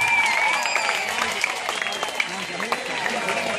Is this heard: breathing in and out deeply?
no